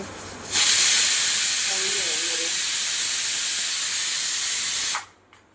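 A pressure cooker on a home stove hisses out steam, a loud steady rush that starts abruptly, holds for several seconds and cuts off sharply.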